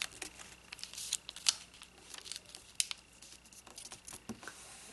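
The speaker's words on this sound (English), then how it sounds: "And now let's fold this flap on this edge." A paper envelope flap being folded gives faint, close crinkles and soft creasing taps, scattered irregularly through a quiet background without talking.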